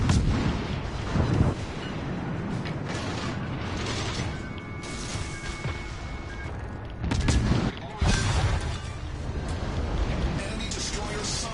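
Heavy naval guns boom in a World of Warships sea battle, a continuous roar of cannon fire with sharper blasts near the middle and later, while a player talks over the action.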